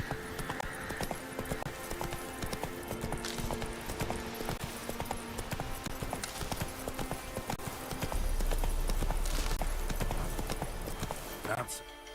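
A horse gallops in The Witcher 3 with steady, close clip-clopping hooves that run throughout, under game music and ambience, with a louder, heavier rumble near the end.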